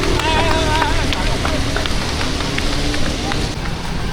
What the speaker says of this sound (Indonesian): Terpantau curah hujan cukup deras